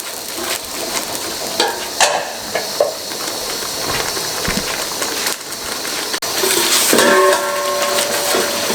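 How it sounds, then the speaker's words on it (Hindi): Garlic, ginger and green chili paste frying with onions in a pan, a steady broadband sizzle and hiss with intermittent stirring scrapes, getting louder and more intense over the last few seconds. "3 मिनट मैंने ये लहसुन, अदरक और मिर्चों के पेस्ट को मैंने अच्छे तरीके से फ्राई किया।"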